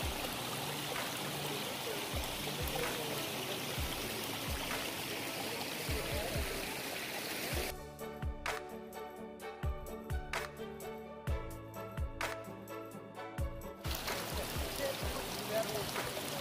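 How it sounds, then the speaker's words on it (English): A small waterfall at a spring rushes and splashes steadily close by, with people talking over it and a brief stretch of music cutting in partway through. "look at this falls"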